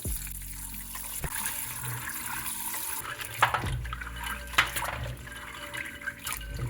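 Peanuts are washed by hand in water, with close splashing and sloshing, running water and scattered clattering knocks of nuts against a bowl, all without speech.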